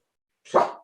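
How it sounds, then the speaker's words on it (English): A single short, sharp dog bark rings out once after near silence, close and fairly loud. "that's the dog barking"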